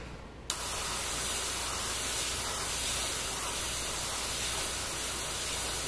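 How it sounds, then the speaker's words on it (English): An airbrush blasting air and paint while being cleared of a clog during miniature model painting, a steady close hiss that starts abruptly and runs unbroken to the end. "I'm gonna come over here and unclog my airbrush"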